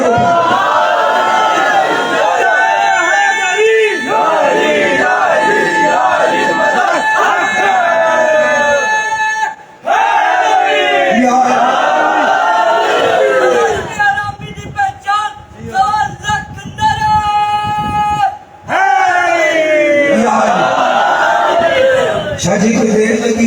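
A large crowd at a religious gathering on Karbala chants slogans in loud, forceful unison, surging in repeated waves with brief breaks between shouts.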